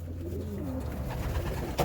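Soft cooing of racing pigeons in a loft, a low throaty call repeated nearby against a steady background hum.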